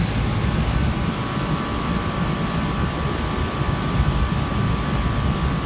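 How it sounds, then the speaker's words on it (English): A train passes close by, a loud, steady broadband rumble and roar with no breaks, no voices over it. "Another train."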